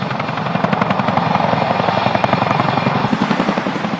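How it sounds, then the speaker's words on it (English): A CH-47 Chinook heavy-lift twin-rotor helicopter roars steadily up close, its rapid blade chop pulsing evenly over a dense turbine whine with no voices. "Meet the CH-47 Chinook, the ultimate heavy lift helicopter."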